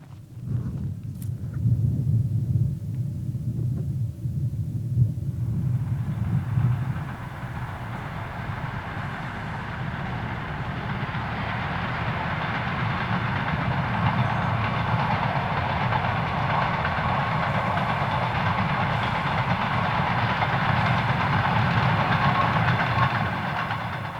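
A train rolls over a railroad underpass in the Gobi Desert, Mongolia, heard from shelter beneath: a loud, sustained rumble and clatter that swells after a few seconds and continues steadily, with no talk.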